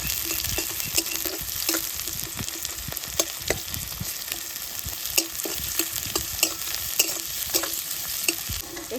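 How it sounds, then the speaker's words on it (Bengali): Crushed garlic and chopped onion frying in oil with cumin seeds, a continuous close sizzle punctuated by rapid, regular spatula scrapes and taps against the pan, with no speech. "কোচানো রসুন পেঁয়াজ কুচি একটু ভালো করে ভেজে নেবো"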